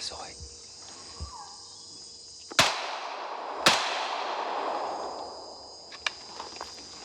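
Two sharp, loud gunshots ring out a second apart during a French army jungle training exercise, each with a long echoing decay over a steady background of insect and cricket chirping.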